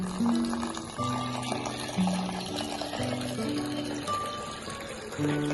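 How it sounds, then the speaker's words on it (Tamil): Water pours steadily into a container of two cups of lentils with a continuous gurgling splash, a low tonal hum running beneath it. "தண்ணி கொஞ்சம் ஊற்றிக்கலாம்."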